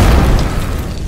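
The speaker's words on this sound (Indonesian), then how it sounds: "Wah, raksasa itu meledak." A loud, deep boom with a rumbling low-end tail, like a cartoonish explosion, fading over about a second.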